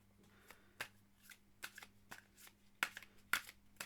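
Tarot cards are shuffled and drawn by hand, a series of quick papery riffles and snaps at irregular intervals, close and quiet over a faint hum.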